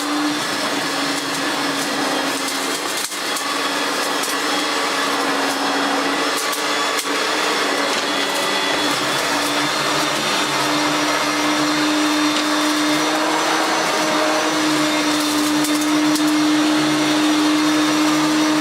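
A Hoover flagship vacuum cleaner runs steadily for the whole stretch, giving a loud, continuous motor whine with a strong tonal hum. No one speaks over it.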